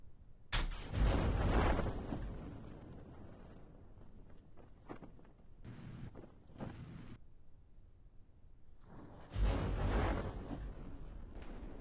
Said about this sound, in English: Oh, it's a thunderstorm. Oh, there's thunderstorms in this?